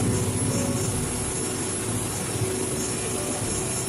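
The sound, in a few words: Jenbacher 320 gas engine turbocharger running in power plant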